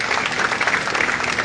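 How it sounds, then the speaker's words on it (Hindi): An audience gives dense, sustained clapping in welcome, loud and steady for the whole moment. "ताली बजा के तो स्वागत करो"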